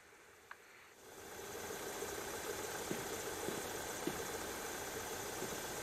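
Airport baggage tug in the AirportSim game reverses toward a ground power unit, its mid-pitched engine rising from a quiet start into a steady idling rumble with faint clunks, moderately distant.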